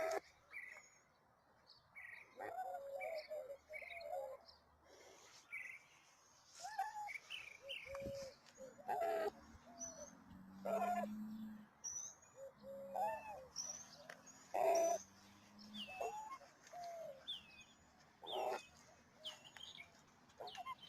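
A pet bird chirps and tweets in short repeated bursts over about twenty seconds, fairly close and clear, with brief pauses between calls and no talking.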